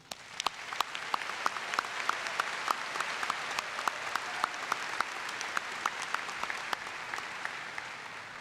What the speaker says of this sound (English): Please join me in applause for these dedicated teachers.